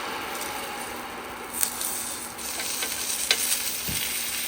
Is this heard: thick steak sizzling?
yes